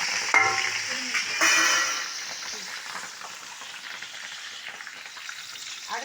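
Fennel seeds, curry leaves and dried red chillies hitting hot oil for a mochai dish, a sharp sizzle that flares twice near the start, then settles into a steady, softer crackle of frying.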